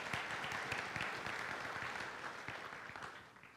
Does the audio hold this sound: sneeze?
no